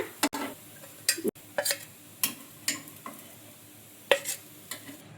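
Poha and semolina breakfast cakes pan-roasting and being turned on both sides, quiet sizzling under a series of sharp scraping and tapping clicks from a utensil against the pan, with no talking.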